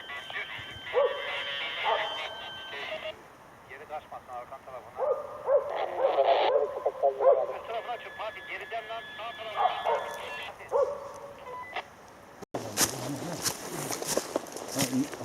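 Several hunting dogs bark and yip at a distance in open country during a wild boar hunt, with people talking over them and footsteps crunching nearby.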